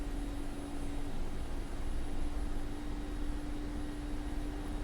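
Mi-24 helicopter engine in the DCS World flight simulator, throttle eased up gently during taxi: a steady, dense broadband roar with a constant low hum and whine, holding near and loud throughout.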